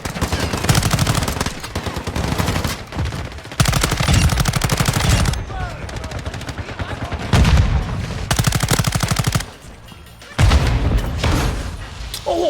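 Dense bursts of automatic gunfire from a Call of Duty: Modern Warfare II match, loud, rapid and close, broken by short pauses, with voices calling out between volleys.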